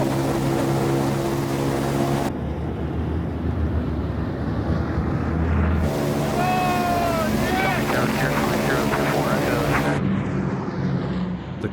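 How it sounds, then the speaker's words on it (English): A 1940s bomber in flight, heard from inside as a loud, steady engine roar with wind rush that never lets up, while a voice speaks faintly beneath the drone. "This is the first for me to fly in a 1940s bomber."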